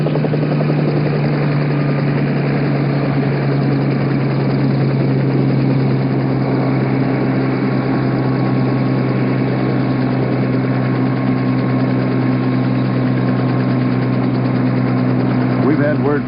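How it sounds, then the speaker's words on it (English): A steady helicopter drone hums loudly throughout as the Apollo 11 retrieval helicopter flies, with a voice speaking over it, like a muffled broadcast recording. "The helicopter designated as the retrieval helicopter"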